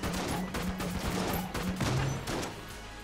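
Rapid bursts of video-game gunfire from Enter the Gungeon, a dense run of quick shots over about three seconds with electronic effects layered in, loud and close with no talk.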